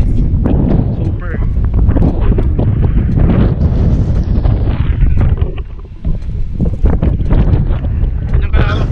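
Strong gusting wind buffets the microphone outdoors at a land property near Tagaytay, loud rumbling bursts with a brief lull, while someone talks underneath.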